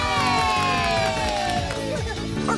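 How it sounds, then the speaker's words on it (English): A lively crowd, including children's voices, cheers and shouts together in a dense, loud burst that holds steady for a couple of seconds. "A big cheer for the little Skittles!"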